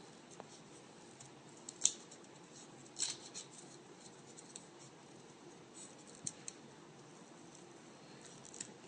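Scissors snip through paper for Chinese jianzhi paper-cutting, giving quiet, close, irregular cuts with a few sharper snips over a soft background.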